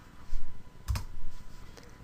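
Keyboard keys tapped to enter a command at a computer, a handful of quick, close clicks with one sharper keystroke near the middle, quiet and without speech.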